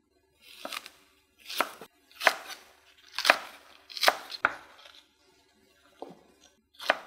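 A knife chops green onion on a cutting board for spicy stir-fried sundae-bokkeum. About seven crisp, close knocks come in an uneven rhythm with short pauses between them, loud and clear against a quiet background, and no voice.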